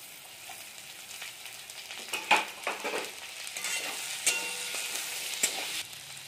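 Potatoes going into a hot pan with dried fish give a steady, close frying sizzle with a few sharper crackles and stirring scrapes, and no one talks.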